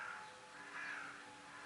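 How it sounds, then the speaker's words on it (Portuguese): Birds call outdoors during a crystal-sound meditation, a faint distant cawing like a crow rising briefly over a quiet, steady background hum, with no one speaking. "meditação com o som dos pássaros"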